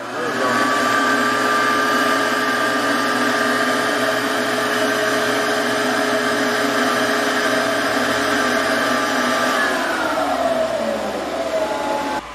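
Vacuum forming machine at a school maker faire running with a steady, loud motor hum and whine that holds for about ten seconds, then drops in pitch as it winds down near the end.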